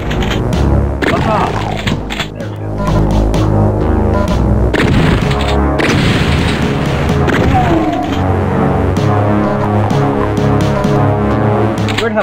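Bullets exploding together in the video game Doom 3, heard as a dense run of loud, booming gunfire blasts with thuds and rapid cracks that keep going throughout over a constant layer of game noise.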